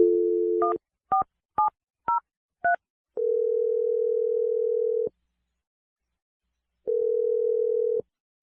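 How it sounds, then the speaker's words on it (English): A telephone dial tone hums steadily, then five short beeping touch-tone key presses punch in a number, followed by a long tone and another after a pause; loud, clean and close, with no voices. "I'm going to dial his number right now."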